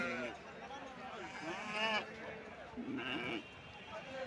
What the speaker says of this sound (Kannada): ಮರಿ ಕುರಿ ಅದ ನೋಡ್ರಿ